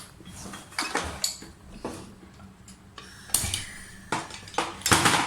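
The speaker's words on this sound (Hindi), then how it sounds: "प्रेशर कुकर में मैंने चने डाल दिए" Hard dry chickpeas clatter and rattle into a metal pressure cooker in several bursts, with scattered clinks between pours.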